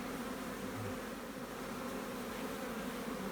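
Honey bees buzz steadily around a queen-rearing frame where nurse bees feed grafted larvae, a soft continuous drone close by with no voices.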